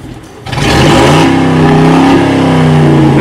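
A Ford Mustang SN95's engine comes in loud and close, revving hard and pulling in gear, its pitch climbing steadily after a quieter opening moment.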